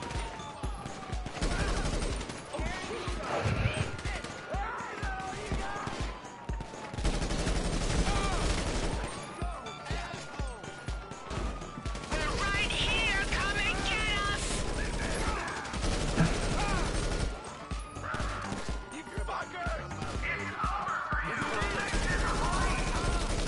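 M16 rifle fire in the GTA video game, rattling out in repeated bursts and volleys across the span, with people talking over the shooting.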